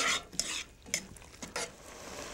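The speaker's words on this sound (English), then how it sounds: "my onions are continuing to saute beautifully" Onions sauteing in a pan for an onion soup, with soft frying sizzle under several distinct stirring scrapes and clinks of a utensil against the pan, close and moderately loud.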